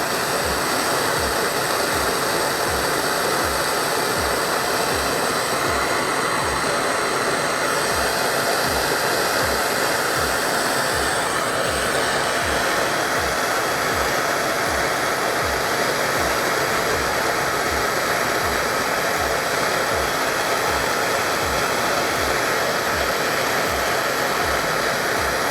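Nortel Mega Minor glassblowing torch burning steadily while heating glass, a constant loud roaring hiss with a faint pulsing flutter underneath, unbroken for the whole stretch and with no voices.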